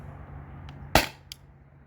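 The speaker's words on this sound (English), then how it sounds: "This is shot number 10." A CO2 pierce-cap salt gun fires a single sharp, close crack over a low steady hum, followed by a faint tick.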